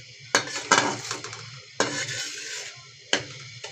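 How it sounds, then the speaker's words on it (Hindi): Semolina dry-roasting in a pan without ghee, stirred with a utensil: a few sharp metallic scrapes and clinks against the pan, spaced irregularly over a soft low background hum. "सबसे पहले हम अपनी सूजी को बग़ैर घी के इसकी थोड़ी सी भुनाई करेंगे। इसको तब तक भूनना है जब तक ये ब्राउन ना हो जाए।"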